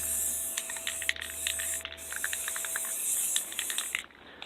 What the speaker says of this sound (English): I'll spray paint the back side of the heart and the front.